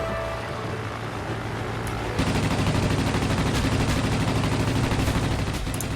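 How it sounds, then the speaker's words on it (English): Anti-aircraft fire in the video game World of Warplanes, a steady rapid rattle of gunfire that starts partway in and grows louder, holding dense and continuous to the end with no talk. "Under anti-aircraft fire."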